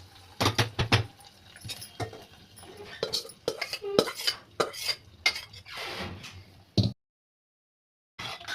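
A browned tempering is tipped into a pot of Andhra-style sambar with spinach, with metal clinks and spoon scrapes against the pan, a brief hiss, then sudden silence before another clatter.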